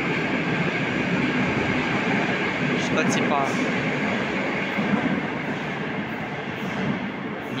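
A Moscow metro train on the Big Circle Line rumbles steadily at close range, a continuous broadband roar with faint rail clatter, while someone speaks briefly over it.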